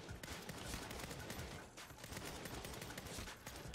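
Rapid gunfire in Saints Row (2022) rattles off in continuous dense bursts with only brief dips, sounding like sustained automatic shooting from a distance.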